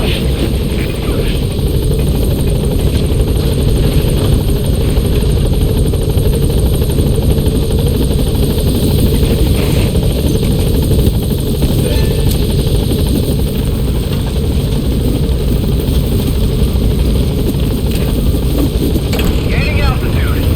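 A helicopter hovers at a landing zone in the video game Metal Gear Solid V: The Phantom Pain, with a loud, steady rotor and engine roar and wind rush that stays constant throughout.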